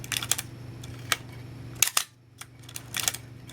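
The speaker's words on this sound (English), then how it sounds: "now we can watch the shutter operating here" The shutter of a Minolta SRT 200 35mm film camera fires in a series of crisp, close mechanical clicks, some in quick pairs and clusters, separated by quiet pauses.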